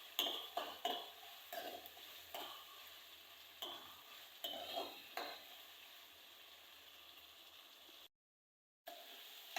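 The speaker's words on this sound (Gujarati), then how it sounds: "મીઠો લીમડો નાખીએ એટલે બહુ સરસ લાગે સૂકી ભાજી। અને થોડીક તેલમાં સાંતળવા દેવી।" Curry leaves and a dry vegetable dish sautéing in oil in a pan, a soft sizzle broken by repeated stirring scrapes and clinks, fairly close, with a brief drop to silence near the end.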